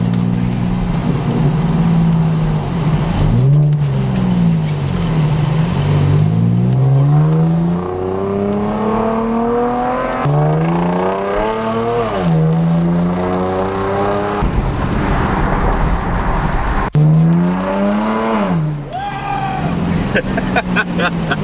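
A very loud car engine revs hard while driving, repeatedly climbing through the gears with rising pitch sweeps and abrupt shifts, aggressive and close, with occasional voices underneath.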